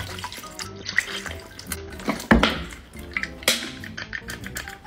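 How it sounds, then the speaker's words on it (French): Water from a bottle is poured into a toy water pistol, giving a continuous splashing, trickling sound with small clinks and a few sharper splashes, close and moderately loud. "je prends mon pistolet à eau vide d'eau et je le remplis de l'eau de ma bouteille d'eau"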